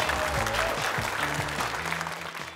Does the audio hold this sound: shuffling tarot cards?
no